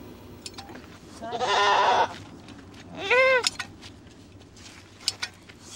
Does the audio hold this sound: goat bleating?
yes